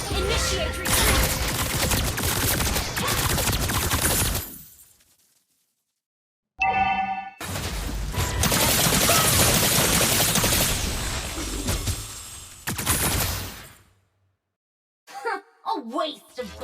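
Game gunfire from a shooter match with no shotgun or sniper weapons: dense, loud bursts fill two long stretches, broken by a brief beep-like tone and trailing off into short scattered sounds near the end.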